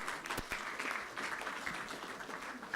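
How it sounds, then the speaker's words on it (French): An audience applauds at the Prix Jeune Espoir 2015 awards ceremony of the Fondation Norbert Ségard as a team returns to the hall, a soft, continuous patter of clapping without voices standing out. "On vous invite à regagner la salle sous vos applaudissements du public, bien évidemment."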